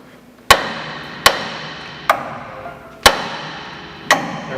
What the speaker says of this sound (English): now we're going to use a swing press. So where we want to hit is just on the spindle.